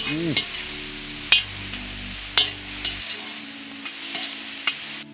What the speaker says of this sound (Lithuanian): svogūnai apkepė, pasidarė minkšti, jau pradėjo išleidinėti savo sultis